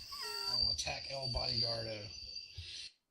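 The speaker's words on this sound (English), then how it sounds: "bunch of crickets in the background of your house" Crickets chirp outside a house in a continuous high trilling drone, close and steady, under a voice talking, and cut off at the end.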